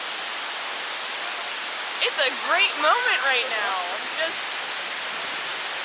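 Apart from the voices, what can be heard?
waterfall at Ryuokyo Canyon, Tochigi, Japan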